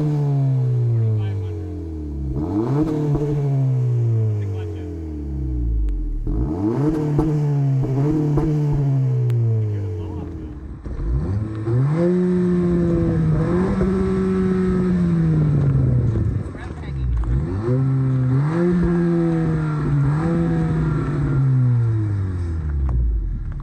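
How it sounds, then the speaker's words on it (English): A 2023 Acura Integra A-Spec with chrome-tipped exhaust starts and revs repeatedly, engine pitch climbing and falling in several close, loud pulls with idle between, while a person talks. "We'll go ahead and fire it up so you can hear what the engine sounds like real quick."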